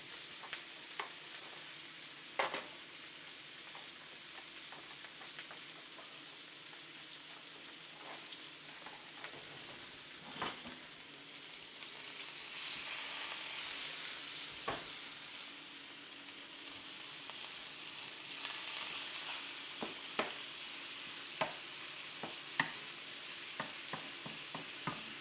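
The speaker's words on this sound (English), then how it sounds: "as our meat continues to brown up, let's go ahead and hit this thing with some flavor." Ground meat for a Puerto Rican pastelón-style lasagna sizzles steadily in a hot pan, with a spatula scraping and stirring in scattered clicks and scrapes over the continuous frying hiss; no voices.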